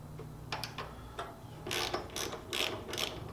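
Close ratcheting clicks from a 6mm socket wrench backing out bolts on an Indian Springfield Dark Horse motorcycle, several quick bursts of sharp pawl ticks separated by brief pauses, quiet overall.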